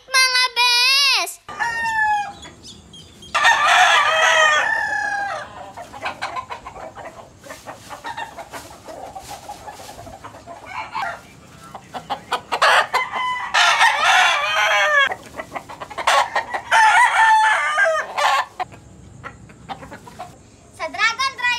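Roosters belonging to Dragon Driver crow loudly and repeatedly while chickens cluck between the crows. The calls are close and overlapping, rising and falling in long bursts throughout.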